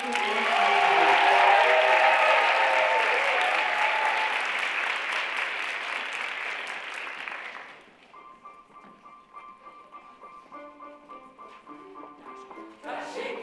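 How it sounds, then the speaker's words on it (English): A concert audience at a high school winter chorus concert applauds the middle school choir, loud sustained clapping with some cheering that fades after several seconds as a piano introduction begins. "One more round of applause for the middle"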